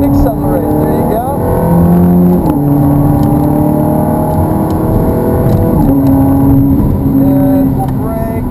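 A Ferrari F430 accelerates hard around the Hallett race circuit, its engine note loud and close, rising and stepping through gear changes, heard under a driver's ongoing talk.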